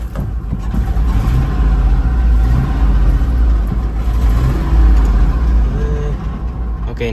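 A loud, deep Ford Expedition SUV engine runs rough at idle close by, with an uneven, rumbling throb that wavers and surges slightly throughout.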